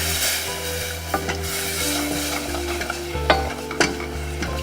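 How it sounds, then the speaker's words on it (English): Milk stirred into a thick roux dough for mac and cheese sauce with bacon and leeks, giving a continuous close sizzle with scraping stir strokes and occasional soft knocks over quiet background music. "now quickly add in some milk"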